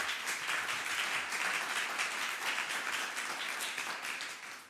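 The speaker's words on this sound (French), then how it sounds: "On l'applaudit." An audience at a Ma thèse en 180 secondes regional selection in Orléans welcomes a candidate with sustained, even clapping that fades slightly in the final second.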